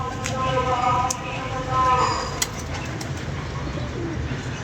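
Pigeons cooing around a loft, soft throaty coos near the start over a murmur of nearby voices and a few sharp clicks.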